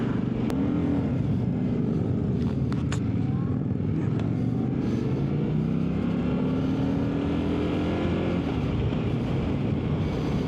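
A 2025 Indian Sport Scout Limited motorcycle accelerates on the road, its engine a loud, continuous rumble heard from on board. Rising tones climb through the gears, mixed with steady wind noise, and a voice is briefly audible.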